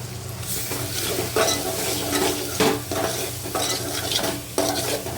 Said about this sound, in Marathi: आपण कांदा खोबऱ्याचं वाटण तर घालतोच आपण ते घालूया परतून घेऊया व्यवस्थित